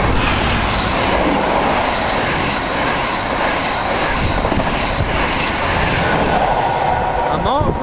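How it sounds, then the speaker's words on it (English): A freight train rumbles past Needham Market station loudly and continuously with wheel noise and rattling wagons, ending in a faint squeal. "Right, we've got a food train coming now."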